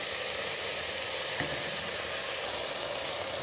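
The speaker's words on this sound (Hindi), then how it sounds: "अब हम चावल को भी अच्छे से मसालों में अच्छे से भून लेंगे।" Rice, peas and potatoes frying with spices in a pan give a steady, close, loud sizzle with a single faint clink of stirring partway through.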